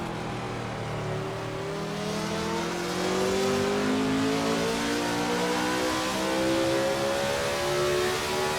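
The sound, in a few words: race car engine revving, 1967 South African Grand Prix, video game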